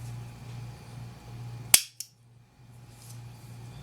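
An old U.S. Revolver Co. .32 S&W revolver under restoration gives one sharp, close metallic snap as the trigger drops the firing pin, followed by a softer click, over a faint background hum.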